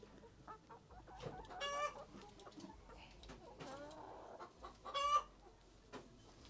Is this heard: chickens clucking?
yes